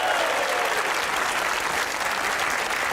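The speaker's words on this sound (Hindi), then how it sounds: "तालियां बजाइए अपने लिए" A studio audience at a Hindi comedy talk show claps steadily and densely, a close, continuous wash of applause with no speech.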